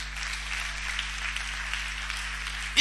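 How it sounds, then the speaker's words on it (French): A church congregation at a French-language service claps steadily for about three seconds, a dense, even wash of applause with a sharper burst at the very end. "Amen. Acclame Jésus"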